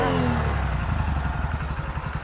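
A Hero HF Deluxe or Bajaj Platina 110 commuter motorcycle engine idles close by with a steady, rhythmic low putter after starting.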